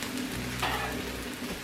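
Vegetables sizzle steadily in a hot pan for a shrimp lo mein, a continuous close crackle with a brief louder burst of hiss partway through and no talking.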